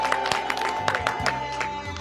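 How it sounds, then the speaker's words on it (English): Crowd applause and cheering for the women at a political gathering, a fairly close, continuous patter of many hands with scattered voices, and a steady electrical hum underneath. "So let's clap for the women first."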